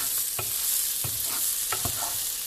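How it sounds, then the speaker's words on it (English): Basmati rice, two cups, being stirred in a pot: spoon scrapes and knocks against the pot land at irregular intervals over a steady background hiss, close and fairly clear, with no voices. "stir this around for a bit."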